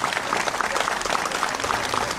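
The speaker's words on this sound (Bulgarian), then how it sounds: "И много моля така от душа и сърце вашите аплодисменти за читалището и общината на град Априлци" Steady audience applause for the Apriltsi community centre and municipality, dense and continuous from a sizeable crowd in a hall at an evening gathering, holding an even level throughout.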